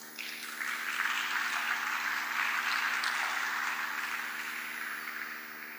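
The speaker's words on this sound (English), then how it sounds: "Another round of applause for Mr. Ed." Audience clapping after a talk at a technical and business meeting in Lagos, a full burst of applause that swells quickly, holds steady, then slowly eases, over a faint constant electrical hum.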